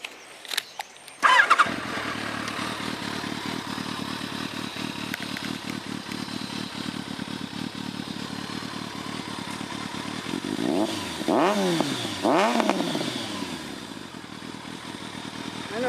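A motorcycle engine cranks and catches, then idles with a steady rumble before two sharp revs rise and fall near the end.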